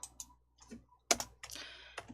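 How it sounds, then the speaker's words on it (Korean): Keys pressed on a computer keyboard for an Alt-C shortcut: a few soft, scattered clicks followed by a louder, denser patter of keystrokes, close and alone. "키보드 Alt-C 눌러주세요"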